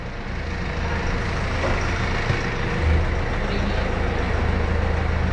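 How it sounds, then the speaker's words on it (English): Gravel pours out of a truck trailer with a loud, steady rumbling roar over a running diesel engine, close by and continuous without pauses. "It always sounds so bad when the stuff comes out of the trailer."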